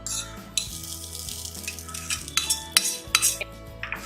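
Grated coconut and cooked green gram stirred together in a pan for susiyam, with scraping and clinking spoon strokes that grow louder and sharper toward the end over a faint sizzle. No voices.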